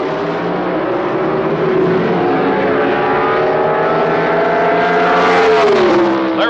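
Pro Stock drag racing cars from 1978 launch together off the starting line at the Gatornationals, a loud sustained engine roar with rising harmonic pitch that swells and sweeps upward near the end.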